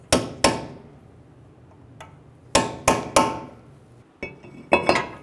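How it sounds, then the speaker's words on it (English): A hammer drives a punch to stake a 2003-2008 Honda Pilot front axle nut, giving sharp metallic strikes in irregular clusters of two or three with ringing decays, close and loud, no speech. "Using a hammer and a punch,"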